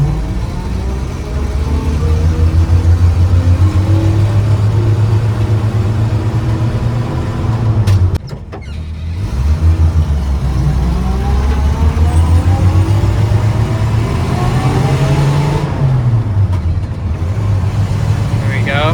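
Engine of a 1973 Toyota Land Cruiser FJ40 pulling away in first gear, a loud steady low drone that rises in pitch, dips briefly and then climbs again.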